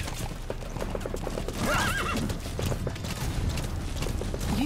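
A horse in Metal Gear Solid V galloping with rhythmic clip-clop hoofbeats, then neighing loudly partway through, with a low mechanical rumble beneath and a final short whinny near the end.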